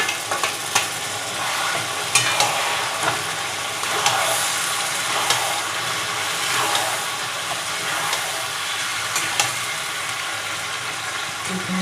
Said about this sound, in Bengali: পেঁয়াজটা আমার ভাজা ভাজা হচ্ছে, ভাজা ভাজা হয়ে গেছে পেঁয়াজটা। এবার আমি চিকেনটা দিয়ে দেব।